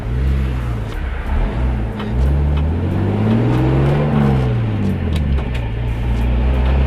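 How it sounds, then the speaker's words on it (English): A turbocharged car engine with a DIY-tuned MS43 setup holds heavy load while brake boosting, producing a loud, close, sustained drone whose pitch climbs and falls as revs shift, with no voices. "But I will try to get as low as I can into the RPMs and high load by doing some brake boosting."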